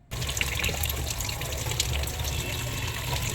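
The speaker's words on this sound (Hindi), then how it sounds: "इसलिए इनको मैंने डायरेक्ट टैप के नीचे ही वॉश कर दिया" A running water tap pours over small Gautam Buddha and Happy Buddha statues being washed in a sink, a continuous splashing gush that stays close and even throughout.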